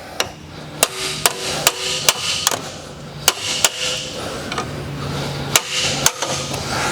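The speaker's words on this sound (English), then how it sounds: "we're going to get a pry bar that has the availability to hammer onto the end of it" Hammer blows strike a pry bar to separate a CV axle from the inner half shaft on a 2012 Honda. Sharp metallic hits come in irregular bursts over roughly seven seconds, loud and close, with no talking.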